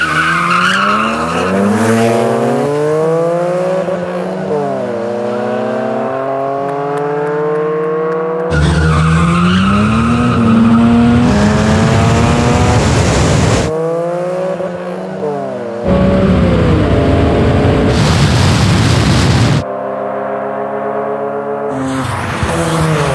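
An Acura NSX and a Mazda RX-7 FD launch in a no-prep drag race, loud engines screaming up through rising gear sweeps with abrupt shifts and tire squeal, close and intense throughout.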